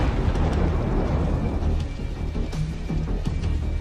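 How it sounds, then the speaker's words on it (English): A detonating armoured personnel carrier fills the scene with continuous loud, rumbling roar and crackling debris, with sharper bursts after the midpoint as the blast echoes in a wooded war zone. "The first APC detonates."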